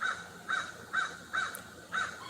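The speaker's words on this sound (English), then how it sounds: "I have crows that hang around my house all the time" Crows in a tree near a house caw five times in a steady rhythm, each call clear and moderately distant over a quiet outdoor background.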